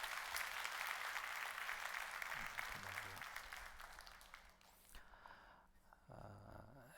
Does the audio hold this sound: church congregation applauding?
yes